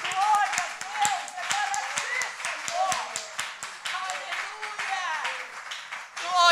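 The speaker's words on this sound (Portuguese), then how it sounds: "Então vamos dar o aplauso mais lindo para Jesus." A church congregation claps for Jesus in a quick, steady rhythm, sharp hand strikes repeating under singing and raised voices.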